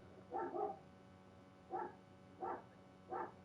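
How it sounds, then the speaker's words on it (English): A dog in the Spider-Man: Miles Morales video game barks four times from a distance, one doubled bark and then three single ones, faint and spaced apart, with no speech. "Noisy dog."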